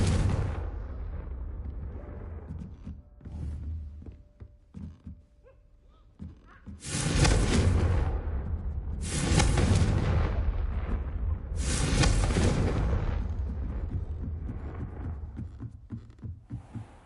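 Confringo spell blasts from the Hogwarts Legacy video game: three loud, booming explosions in quick succession, each with a bright crackling burst and a rumbling tail, over a low background.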